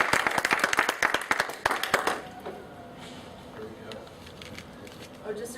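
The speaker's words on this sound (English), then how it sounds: "So please give a big round of applause for Daniel and Irina." Audience applause at a presentation event, a dense burst of clapping for about two seconds that quickly fades, leaving a quieter room with scattered sounds and faint talk.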